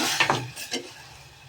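Milk and sugar stirred together in a pan make a few quick scraping and sloshing strokes of a spoon against the metal, close and distinct, with a faint sizzle underneath and no voices.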